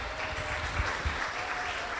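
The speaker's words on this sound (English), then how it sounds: "You deserve a round of applause." Steady applause from an audience at a charity event thanking its volunteers, many hands clapping evenly throughout with faint low rumbles beneath.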